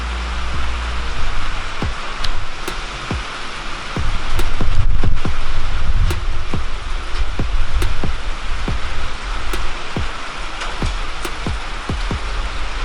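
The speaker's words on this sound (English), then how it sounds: "it started raining" Steady rain falling, with scattered sharp drips and taps landing on a nearby surface, including a freshly painted Nissan 300ZX, throughout, growing a little heavier partway through.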